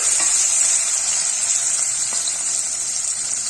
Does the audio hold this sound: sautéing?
yes